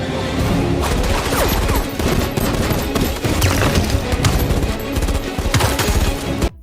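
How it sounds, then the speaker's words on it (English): A SWAT shootout in The Matrix Resurrections brings dense, sustained automatic gunfire, with rapid overlapping loud bursts of shots and impacts filling the whole stretch. "SWAT guys show up and fire thousands of bullets at your main characters, and they all miss"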